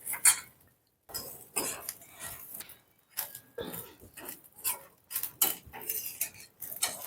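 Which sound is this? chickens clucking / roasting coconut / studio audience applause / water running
roasting coconut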